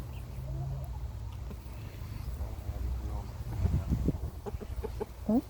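A chicken clucks nearby in short bursts toward the end, over low background rumble, with a quiet voice murmuring briefly.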